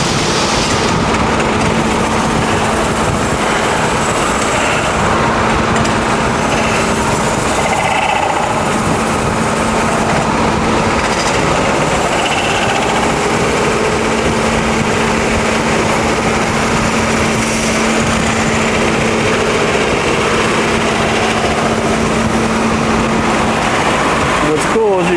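A machine tool shaves a cymbal on the floor of the Sabian cymbal factory, making a loud, unbroken mechanical hum with a steady whine that carries throughout, while voices may murmur underneath.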